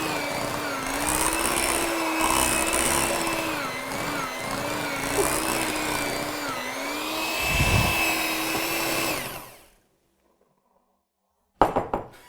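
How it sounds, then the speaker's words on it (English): A cheap hand mixer without soft start runs on its lowest setting, a steady whining motor hum with slight pitch wobble for about nine seconds before cutting off, followed by a brief clatter at the end. "There's no soft start on this hand mixer, so all we have is a 1."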